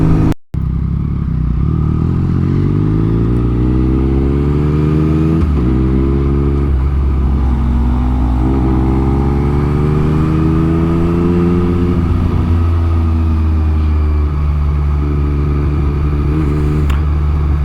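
A motorcycle is ridden continuously, its engine rising and falling through repeated accelerations and gear changes, loud and close throughout, with no talking.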